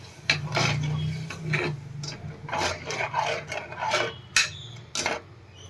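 Cluster bean and potato curry stirred in a pan with water just added, heard as close, uneven spoon scrapes and knocks against the metal, no speech.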